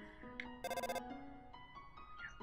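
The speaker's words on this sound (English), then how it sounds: "Okay, my cell phone's ringing." A cell phone rings in the video game Undertale, a short run of bright chiming electronic tones with a rapid warbling burst in the middle, over a soft steady musical background.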